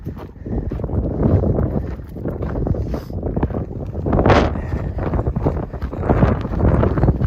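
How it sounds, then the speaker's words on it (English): Gusty wind on a Black Canyon trail during an evening run, buffeting the microphone in a continuous loud rumble that rises and falls in uneven surges. "Oh, that wind is picking up a bit"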